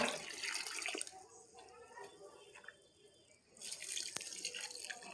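Neem powder mixed into water is poured onto a flower plant, a close gurgling, splashing flow in two bursts with a quieter stretch between, while a person speaks over it.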